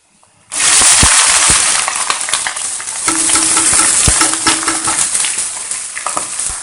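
Onions hit hot oil that has sugar dissolved in it and start frying for a chicken dinner, giving a loud, steady sizzle that rises suddenly. Stirring scrapes and clatters run through the continuous hiss.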